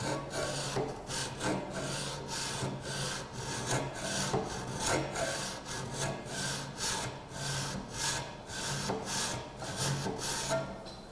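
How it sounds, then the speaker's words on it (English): A hand file is drawn across a metal workpiece clamped in a vise, making about a dozen even rasping strokes in a steady back-and-forth rhythm, close and clear with no talking. "In draw filing, it is important to balance the pressure over the entire stroke"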